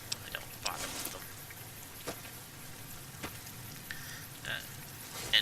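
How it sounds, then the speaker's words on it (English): Steady rain in Fallout New Vegas, a soft wash of patter with occasional sharper drop ticks, moderately faint and continuous throughout. "And it's raining"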